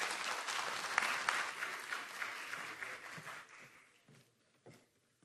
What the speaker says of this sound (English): I want to give a special round of applause to Samantha from OPRE